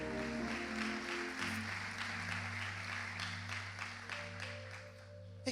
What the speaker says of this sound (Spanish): Alguien tiene que aplaudir